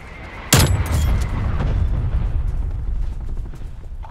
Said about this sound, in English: Garcia requesting artillery action.